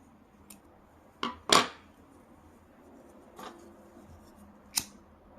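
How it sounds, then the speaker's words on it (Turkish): A few sharp scissor snips cutting excess yarn, spaced out and close by, with quiet pauses between them. "makasla fazla olan ipimizi keselim"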